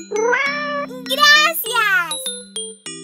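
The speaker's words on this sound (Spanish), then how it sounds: "¡Mira! ¡Es mi gato!" A cartoon cat meows several times in bright, close, loud cries, mixed with a voice and light jingling tones in an animated scene.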